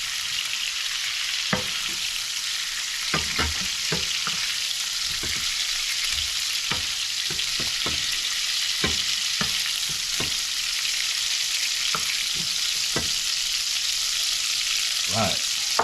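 Pumpkin and shrimp frying in oil in a pan, a loud steady sizzle close up with frequent sharp knocks and scrapes of a utensil against the pan, no voices.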